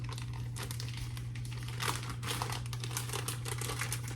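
Plastic crinkles and crackles as an 8-ounce bag of shredded mozzarella cheese is torn open, with busy rustling over a steady low hum and no talking.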